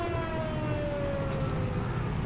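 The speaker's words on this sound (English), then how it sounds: "There's that siren again." A steady, loud siren wails on and on in the farming game Farming Simulator 22 on the Haut Beyleron map, its pitch sliding slowly downward over a low rumble with no break throughout.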